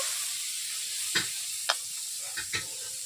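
Steady frying hiss with a few sharp clattering bursts as potatoes drop into a hot pan, no voices.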